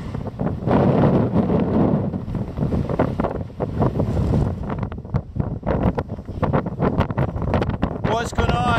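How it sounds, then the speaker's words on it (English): A gale on a sea cliff on the southern Irish coast buffets the microphone with heavy, roaring rumbles, continuous and loud, with a voice faintly audible beneath it. "The wind is blowing a gale, so I don't know if I'll be heard on the video"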